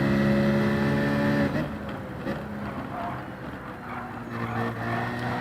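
Engine note of a Citroen race car in Gran Turismo 7, a steady tonal drone that drops as the car slows for a corner, then builds and rises again on exit, heard alone.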